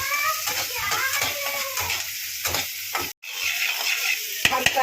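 Tomato added to lightly browned onions sizzling in a pan, with stirring scrapes and clanks, a brief gap, then renewed frying hiss; someone talks over it.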